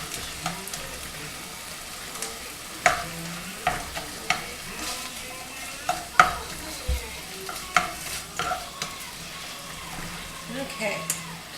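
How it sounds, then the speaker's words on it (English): Chicken sizzles and spits in hot oil in a pan, a steady frying hiss with scattered sharp pops and occasional stirring clatter. "Check the chicken and see how we're doing here. It's frying good."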